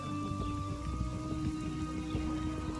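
Steady rain falls in The Witcher 2 game world, a continuous patter layered over a low, busy game soundscape with tonal hums, moderately loud and without speech.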